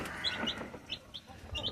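Chicks and hens on a small poultry farm where eggs and chicks are sold, clucking and chirping in short repeated calls at close range, with light cheeping scattered over a steady background of fowl noise.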